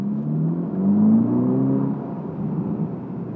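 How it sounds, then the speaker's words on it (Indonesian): Ferrari Roma's large-capacity V8 accelerating, heard from inside the car as a muffled rising engine drone that swells, then settles to a steady rumble. "Mesin V8 kapasitas besar yang teriakannya lumayan kencang"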